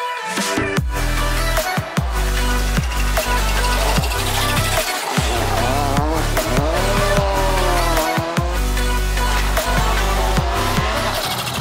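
Rally car at the 2018 Prague rallysprint driving hard, engine revving up and down through gear changes with tyres squealing in bursts, loud and close throughout with no talk.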